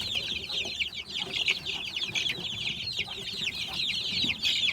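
A flock of chicks and chickens chirps and clucks steadily while eating a feed of corn and wheat, a dense, continuous high twittering at moderate distance with no talk.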